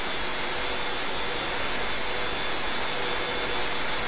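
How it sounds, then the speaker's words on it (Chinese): Airbus jet engines roar steadily during the climb after takeoff, likely in a flight simulator: a continuous broadband rush that stays at the same level, with no voices. "飞机现在也已经这个离地了，下面收起落架"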